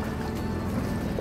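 A sailboat's engine runs in gear while moored at a dock, being tested for overheating, making a steady, loud, broadband rumble and wash with no pauses.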